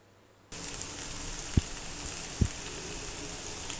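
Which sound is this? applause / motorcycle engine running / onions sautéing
onions sautéing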